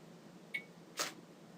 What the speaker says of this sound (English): the camera triggered the shutter and retrieved the image